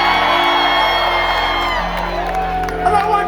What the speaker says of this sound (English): Make some noise for the hairstylists out in the crowd making us look good.